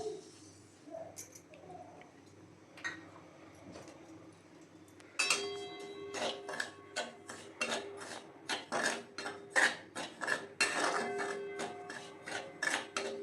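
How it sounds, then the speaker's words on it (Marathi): Semolina dry-roasting in a kadhai on a gas stove, stirred with a spoon that scrapes and taps against the metal in a quick, uneven rhythm, growing busier after a quieter start. "एक 2 ते 3 मिनिटं चांगला आपण रवा असं भाजून घेणार आहे"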